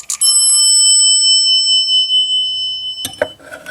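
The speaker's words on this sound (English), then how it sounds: "And the GAL bell." A GAL elevator bell gives one loud, bright ding whose ringing tone hangs and slowly fades for about three seconds, then a short mechanical clatter follows.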